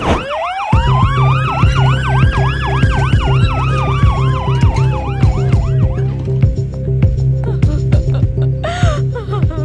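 A loud, close ambulance siren wails in rising and falling sweeps and fast yelps, layered over a pulsing horn-like tone that fills the whole stretch.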